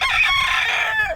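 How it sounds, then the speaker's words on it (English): A Minorca rooster crows once, loud and close, a single sustained cock-a-doodle-doo lasting about a second before cutting off, with no talk over it. "That's a Menorcan rooster, if you want to know."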